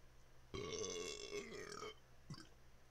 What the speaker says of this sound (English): You always gotta get that burp out when it has to.